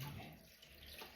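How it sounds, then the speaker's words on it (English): Tap water runs steadily into a sink while a dog's grooming gear is rinsed off, a continuous close splashing hiss that stays even with no talking. "Right, let's just rinse this off."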